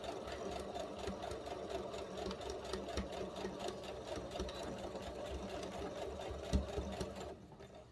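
A sewing machine stitches two fabric squares together, its needle running in a steady fast rattling hum close up for several seconds before stopping near the end, with no talking.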